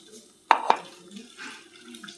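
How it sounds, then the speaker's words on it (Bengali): A small splash of water goes into a pan of cooking spice paste, with two quick pours followed by a soft bubbling sizzle in a quiet kitchen. "নাড়াচাড়া করে দিয়ে দিলাম অল্প জল"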